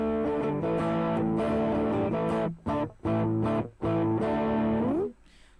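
Electric guitar run through a drive pedal set for a light crunch, strummed chords ringing with mild distortion, loud and close, with short gaps between phrases and a final fading chord.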